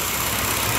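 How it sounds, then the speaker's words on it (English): A 340 V8 in a 1971 Dodge Challenger, fitted with Holley EZ-EFI self-tuning fuel injection, idles smoothly and steadily at close range, with no other sounds. "this fast EZ-EFI, this thing's idling smooth"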